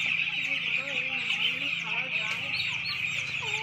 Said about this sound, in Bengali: কি সুন্দর কিউট ছোটো ছোটো একবারে মুরগি